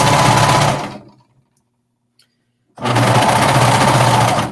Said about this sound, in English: So I love my cover stitch because it does it all for me, and it's fast.